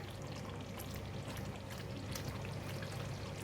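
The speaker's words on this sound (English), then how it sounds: "Now we're going to put in the tamarind water" Tamarind water streams in a soft, continuous pour into a pot of simmering chicken curry with potatoes, quiet and steady with no voices.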